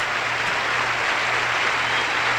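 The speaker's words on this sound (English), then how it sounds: "The applause doesn't diminish." Sustained audience applause fills a large arena at the 1984 ice dancing championships, a steady dense wash of clapping with a low hum underneath and no voices standing out.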